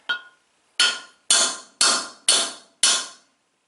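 Six sharp hammer blows ring out on metal during a build of a 1978 Chevy square body K10 truck being converted to K30, one soft hit, a pause, then five evenly spaced loud strikes, each decaying quickly.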